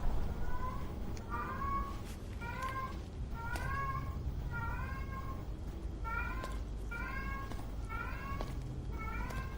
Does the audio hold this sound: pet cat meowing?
yes